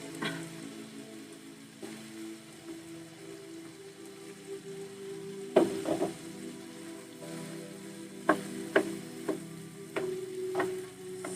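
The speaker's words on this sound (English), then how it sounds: "Stir everything up. And this pan is pretty full." Vegetable curry in a very full pan, a low continuous sizzle with a few louder scraping stirs clustered in the second half, fairly quiet and with no voices.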